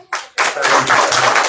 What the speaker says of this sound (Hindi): जोर से ताली दो।